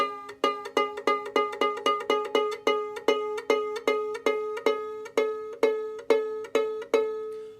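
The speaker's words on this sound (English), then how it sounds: "Hopefully you were able to hear how the pitch got higher as I twisted it." A violin or viola string plucked over and over at a quick, regular pace while the fine tuner is turned so the pitch creeps upward, each short pluck ringing close and clear with no voices.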